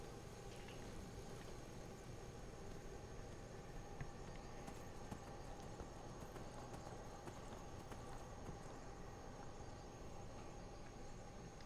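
Faint, rapid clopping of horse hooves at a steady gallop in modded Skyrim Special Edition, continuous throughout over a dull background hiss.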